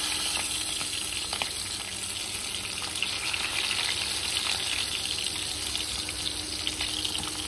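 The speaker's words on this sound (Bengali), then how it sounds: "আমি কিন্তু শুকনো লঙ্কা, তেজপাতা, জিরে ফোড়ন দিয়ে একবারে ভাজা বসিয়ে দিয়েছি" Dry red chillies, bay leaves and cumin seeds sizzle steadily in hot oil as the tempering for an egg curry, a continuous close frying hiss with no voices.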